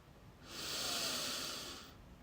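A single slow, deep breath drawn in close by, a soft airy hiss that swells and fades over about a second and a half, with no other sound.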